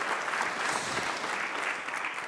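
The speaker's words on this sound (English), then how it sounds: "We can clap for that." An audience claps steadily and evenly throughout, a dense wash of many hands at moderate loudness with no voices over it.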